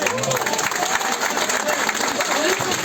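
A political rally crowd claps loudly and continuously, dense and close, with voices and shouts mixed into the applause throughout.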